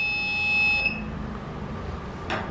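A high electronic beep from an Arduino metal detection robot sounds steadily for under a second as it detects metal, then cuts off, leaving low background noise and a brief click.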